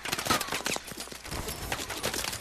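Gunfire in Call of Duty: Advanced Warfare on PS4, a dense crackle of repeated shots and bursts filling the scene near and loud with no pauses, layered over battle noise during an ambulance escort.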